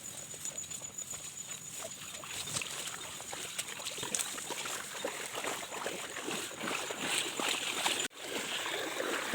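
Water flows down beside a cliff in a steady, rushing stream, with a close, broadband babble, faint scattered clicks and a brief dip near the end.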